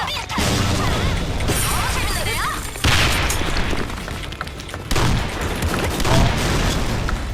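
Video game combat: grenade blasts and booms mixed with scattered gunfire, loud and dense throughout, with a few sharp impacts standing out. Players talk at times over the action.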